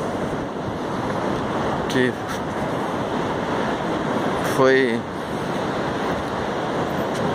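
Storm-surge sea at Itapoá beach pounds the damaged shoreline in a continuous roaring wash with wind buffeting, while a person talks briefly over the surf.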